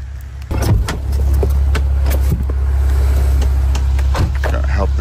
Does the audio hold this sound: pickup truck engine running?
yes